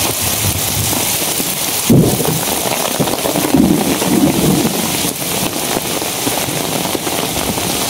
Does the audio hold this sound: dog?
no